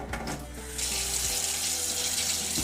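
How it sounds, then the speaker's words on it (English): A kitchen tap opens and water pours into a sink, starting with a clunk and short gurgle before settling into a steady, close rush of running water. "So you're going to turn on your tap"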